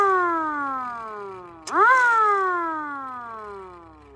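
A homemade mechanical siren wails with falling pitch, then a sharp click and a fresh rise before it winds down slowly again, close and fairly loud.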